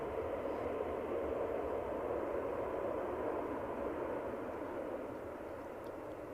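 A Finnair Airbus A350 at Edinburgh airport, a steady broad engine roar at moderate distance that holds constant and eases slightly toward the end, with no talk.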